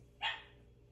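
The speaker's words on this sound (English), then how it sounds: "Oh my gosh, can you hear my Loki?" A single short bark from a pet dog named Loki, heard a little way off in a quiet room, one sharp burst then silence.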